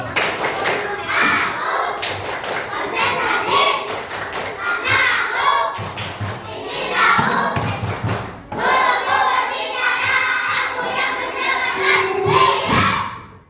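A classroom of children performs the tepuk konsentrasi routine, rhythmic bursts of group clapping and thumps mixed with chanting young voices, loud and close in repeated phrases.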